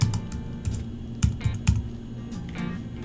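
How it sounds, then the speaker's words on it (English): Keystrokes clatter on a computer keyboard, close and fairly loud, in a short irregular burst of taps with brief pauses and no voices. "he can either type it"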